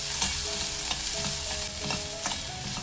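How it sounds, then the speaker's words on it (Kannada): Onions stir-fry in a pan with a steady, close sizzle, broken by a few scraping stirs of a spoon or spatula. "ಈರುಳ್ಳಿದು ಹಸಿ ವಾಸನೆ ಹೋಗೋ ತನಕ ಹುರ್ಕೊಳ್ಳೋಣ"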